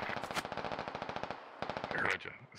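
Rapid automatic gunfire in the military shooter game SquadOps, a dense rhythmic burst of closely spaced shots that pauses briefly and resumes, ending in a louder blast.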